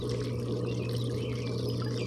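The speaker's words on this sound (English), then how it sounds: "I now have the filter running, and you can see that the water is running through the sock." Pool filter pushing water through a filter sock during rust removal from a swimming pool, giving a steady, continuous pouring rush with a low hum underneath, close and unbroken throughout.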